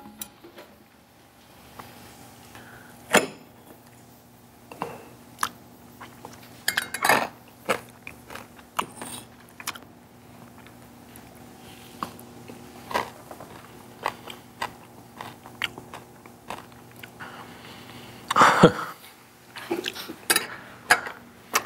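Someone biting into and chewing a mugwort dessert, with scattered soft crunches, light cutlery clinks and a louder bite near the end, all close and quiet with no talking.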